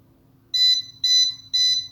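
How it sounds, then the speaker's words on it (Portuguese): A W2809 digital thermostat sounding its high-temperature alarm: three loud, evenly spaced electronic beeps close up over a faint low hum. "ele vai acionar o bip, que é o alarme de alta temperatura"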